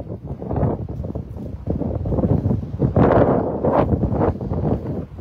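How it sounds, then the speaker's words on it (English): Strong gusting wind buffets the microphone at a Lake Erie marina in freezing cold, a low rumbling roar that surges and eases in uneven bursts, loudest in the middle, with no voices. "It's like a 40 mile an hour wind with 50 mile an hour gust up here right now."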